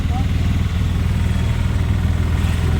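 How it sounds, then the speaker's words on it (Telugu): A small motor engine hums steadily at a low, even pitch throughout, loud and close, like a three-wheeler running. "ఇప్పుడు ఆటోలో తిరుగుతుంది కనకం"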